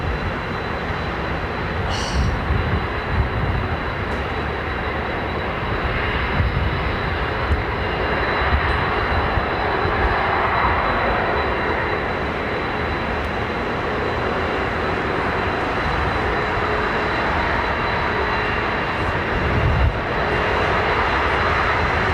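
Airliner jet engines climb out at London Heathrow Airport with a loud, continuous roar that holds steady for over twenty seconds, heard from the ground at some distance.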